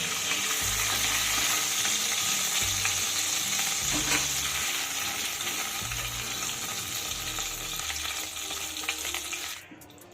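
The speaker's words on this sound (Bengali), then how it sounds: "এবার ওই তেলেই আমি পেঁয়াজ ভেজে নেব" Loud, steady sizzling of katla fish frying in hot oil, with stirring noises, continuing throughout before it cuts off near the end.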